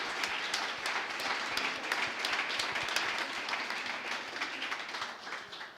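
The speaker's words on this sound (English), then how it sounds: "a big round of applause for all of the artists that have been involved in making today possible" An audience at an art museum's artist fellows presentation gives a round of applause for the artists, a sustained crackle of many hands clapping at moderate distance, steady and fairly soft, with no speech over it.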